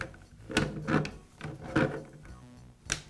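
Porter Cable router base being reinstalled, giving a handful of short wooden-sounding knocks and scraping rubs at a steady, close, moderate level with brief pauses between them.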